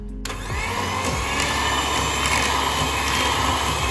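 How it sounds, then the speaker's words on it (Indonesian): An electric mixer beats egg mixture at high speed for a steamed chocolate brownie batter, a loud, close, steady motor whir that starts abruptly and holds without pause. "Kocok bahan B menggunakan mixer dengan kecepatan tinggi sampai putih kental berjejak gitu."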